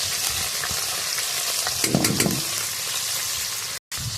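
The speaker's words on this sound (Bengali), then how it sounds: "তেল গরম হয়ে গেছে দিয়ে দেবো চিংড়ি মাছ" Prawns sizzle in hot oil in a wok over a village wood-fired stove, a steady close frying hiss with a louder crackling burst near the middle and a brief dropout near the end.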